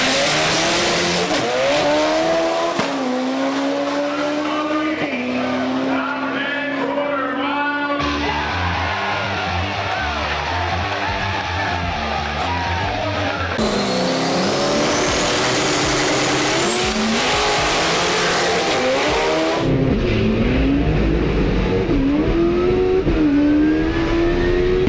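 Honda race cars in a drag race pair, loud engines screaming through rising gear-change sweeps, tire squeal and passing roars as the cars launch and pull away, with distant crowd yells.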